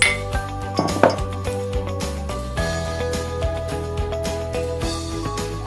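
Two drinking glasses for a reaction-rate lab experiment set down with a bright clink near the start, followed by fainter ringing taps over a steady tonal background.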